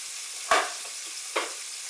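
Steak pan-searing with a steady high sizzle, broken by two louder bursts as the meat is flipped and drops back into the hot pan, close and with no voices.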